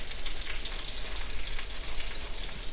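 Chicken fries golden brown in a pan with a steady, close, hissing sizzle of hot oil that holds evenly throughout with no talking.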